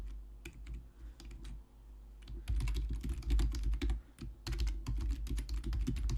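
Steady typing on a computer keyboard while composing an email in Thunderbird on Windows, quick irregular key clicks that start sparse and become dense and continuous after a couple of seconds, close and alone.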